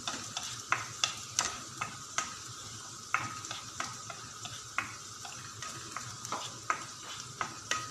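Onion and garlic sauté in a pan ahead of chicken for an upo dish, a steady close sizzle broken by regular sharp clicks of a utensil stirring against the pan, with no talking.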